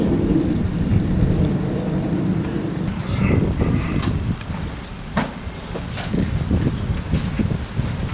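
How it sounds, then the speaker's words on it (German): Steady heavy rain pours outdoors in a continuous loud hiss, with low rumbling thunder rolling underneath and scattered sharp drip and splash sounds on nearby surfaces, no voices. "Doch, es regnet."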